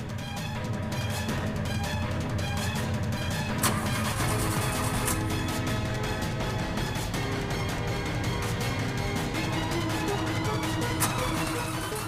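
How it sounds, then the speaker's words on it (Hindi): A car engine cranking repeatedly but failing to start, a continuous churning mechanical grind with rhythmic pulses throughout, fairly loud and close. "पता नहीं ये गाड़ी क्यों नहीं स्टार्ट हो रही।"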